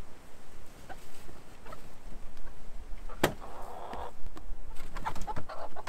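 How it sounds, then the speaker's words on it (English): A hen outdoors in snow makes a few soft, scattered clucks and chicken calls, fairly faint against a noisy background, with one sharp click-like sound midway. "This is chicken."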